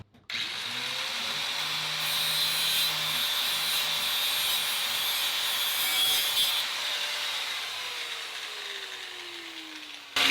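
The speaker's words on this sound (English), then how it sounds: "So let me get my grinder wheel. I'll clean up, there's a little nick here." A grinder wheel whirs steadily for about ten seconds while cleaning up a small nick in the metal on a 1966 Buick Riviera, with a loud continuous hiss and hum and no talking.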